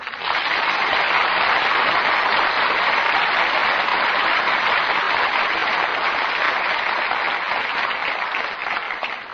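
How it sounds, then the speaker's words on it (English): Studio audience at a radio theatre broadcast applauds the stars of the play, a loud, dense and steady wash of clapping from many hands that holds for the whole stretch before easing slightly at the end. "join me in well-earned applause for Richard Widmark, Paul Douglas, and Joyce Mackenzie"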